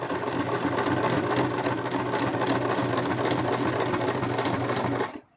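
A sewing machine stitches plush fabric for the feet of a toy mouse, a loud, rapid, continuous mechanical whirr that stops sharply at the end.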